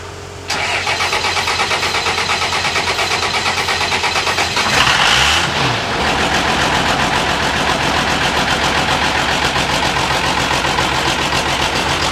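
A Cummins-powered monster truck engine cranks and catches, then settles into a loud, steady diesel idle close by, with a brief surge in revs shortly after it starts.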